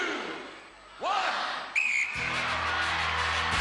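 A referee's whistle starts a race on a televised Gladiators celebrity challenge, a short shrill blast near the middle over crowd noise, with a hum and general arena clamour rising afterward.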